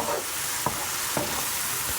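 Shallots and mushrooms fry in a pan with a steady, close sizzle, broken by a few sharp stirring scrapes as the keto dish cooks.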